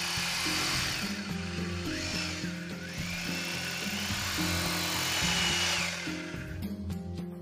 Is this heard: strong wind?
no